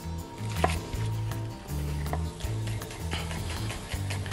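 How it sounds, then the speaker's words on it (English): A knife slices shallots thin on a board for a sauce, giving a handful of crisp, irregular chops over a steady low hum in the background. "We're going to cut these, fairly thin."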